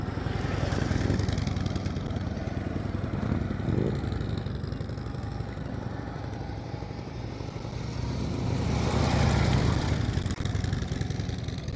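A motorcycle engine runs at low, steady revs during slow-speed riding practice, a continuous mid-level drone that swells slightly near the end, with no talk.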